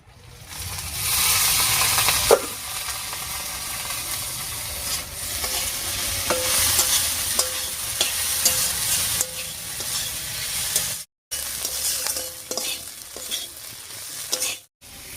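Potatoes and onion stalks fry in a pan with a steady broadband sizzle, broken by repeated stirring scrapes and clatters and by two brief silent gaps near the end.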